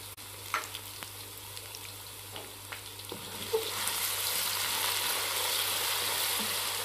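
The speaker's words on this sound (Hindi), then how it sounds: "ये देखें मैंने अदरक लहसुन और हरी मिर्चें मैंने भून ली हैं" Browned onion with ginger-garlic paste and green chillies frying in a pan for mutton paya, a steady close sizzle with occasional stirring clinks that grows denser and louder after a few seconds.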